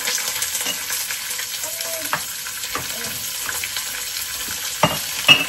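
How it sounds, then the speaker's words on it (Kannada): Onions and green chillies frying in a pan make a faint, steady sizzle close by, with a few sharp spatula clinks toward the end and no talking. "ಈರುಳ್ಳಿ ಹಾಕೋತಾ ಇದ್ದೀನಿ"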